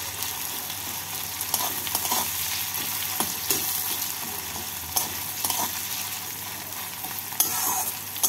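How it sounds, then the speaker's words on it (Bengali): Finely chopped onion fries in hot oil with a continuous close sizzle and occasional light stirring clicks and scrapes, no voices. "পেঁয়াজটাকে হালকা বাদামি করে ভেজে নিচ্ছি।"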